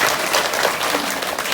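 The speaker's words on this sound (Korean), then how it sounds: "박수 한번 칠게요." An audience at a network marketing business presentation claps together, a dense, loud and even patter of applause that lasts the full moment.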